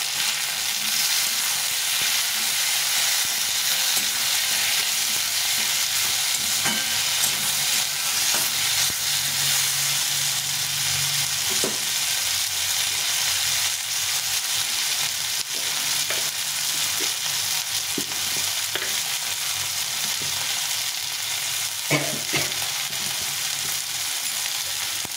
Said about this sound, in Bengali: এখন আমি টমেটোটা দিয়ে দেবো। টমেটোটা একটু ভেজে নেব।